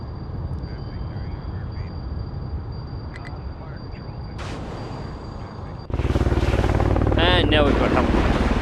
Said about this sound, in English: And now we've got helicopter.